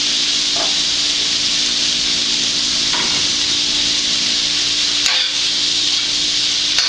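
Sausage fries in a metal pan with a little added grease, giving a steady close sizzling hiss throughout, with a few faint stirring knocks and no talk.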